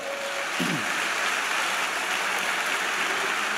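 A church congregation applauds, a steady wash of many hands clapping at moderate distance, dense and even throughout with no speech over it.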